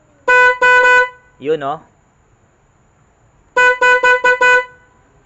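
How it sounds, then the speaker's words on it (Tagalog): A car horn with a relay sounds in bursts as its switch is pressed during troubleshooting: two short honks, then a pause, then four quick honks in a row, loud and close. A brief spoken word falls between the bursts. "Pipress ko po tong switch ng busina."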